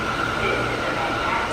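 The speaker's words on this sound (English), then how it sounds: "This is a Sheepshead Bay bound Q local train." New York subway Q local train bound for Sheepshead Bay, a continuous loud rumble and whine of the car in motion, with a steady tone running through it and a voice faintly present.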